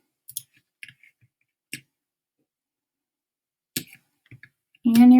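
A handful of sparse, crisp computer mouse clicks land in a quiet room, spaced irregularly, before a voice starts speaking near the end.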